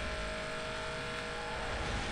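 Steady engine drone of a car accelerating in fourth gear at high speed in the Need for Speed Most Wanted racing game, a continuous, even roar with a sustained tone and no talk over it.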